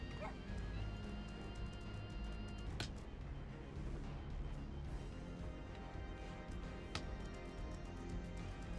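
Big fluffy dog mount from the video game Final Fantasy XIV barks and yips amid busy game sounds, with a faint voice underneath.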